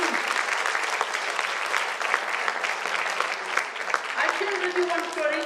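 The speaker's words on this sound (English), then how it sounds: "So I want a round of applause for my spirulina, please." Sustained audience applause during a health talk, dense and even with many hands clapping, loud and close, with a voice rising near the end.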